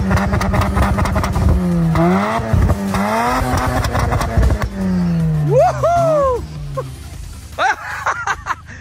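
A Mazda RX7 on a stock, non-aggressive exhaust revs up and down in sweeping pitch rises and falls, close and loud, with excited voices talking over it throughout.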